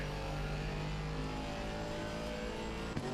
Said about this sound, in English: I love the engine sound of this Merc.